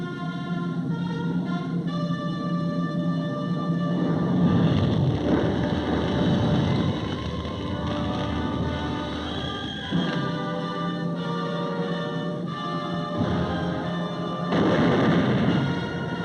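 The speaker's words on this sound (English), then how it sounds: "The mortar barrage searches out hidden machine gun nests." Mortar barrage and artillery fire in a wartime film of the Iwo Jima landing, a loud, continuous rumble of booms and blasts with dense explosive bursts that swell and fade across the whole stretch, no talking.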